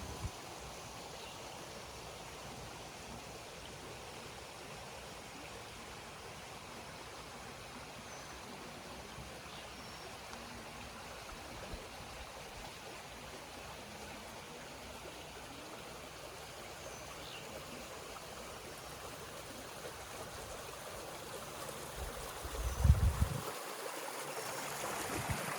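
River stream flowing beside a hillside campsite, a steady, faint wash of rushing water continuing for the whole stretch, with a brief knock near the end.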